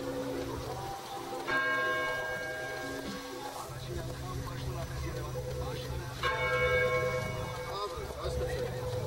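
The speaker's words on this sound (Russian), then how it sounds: "О, колоколы." Church bells ring out in two separate strikes with long resonant tails, heard at a distance in the town of Aparan, Armenia, under ambient noise and some voices.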